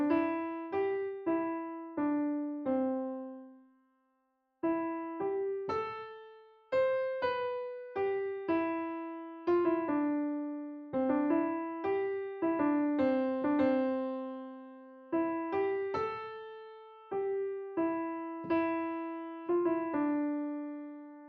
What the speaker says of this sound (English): the Hobbit theme or the Shire theme sounds like this